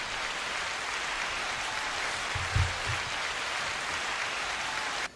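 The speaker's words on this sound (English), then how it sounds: "9-second applause" Steady applause, a dense, even patter of clapping held at one level for about five seconds before it cuts off abruptly, with a brief low thump partway through and no talking.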